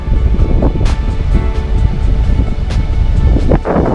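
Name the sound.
strong wind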